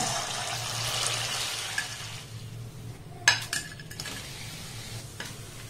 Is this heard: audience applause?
no